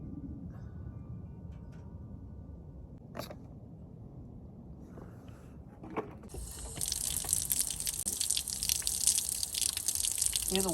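Water gushes and splashes out of a wet filter from a first-generation Toyota Tundra, starting partway through as a steady rushing stream after a few quiet clicks and taps.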